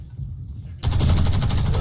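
Gunfire in the shooter game Warface: a brief quiet moment, then a sudden loud burst of rapid automatic fire that keeps rattling to the end.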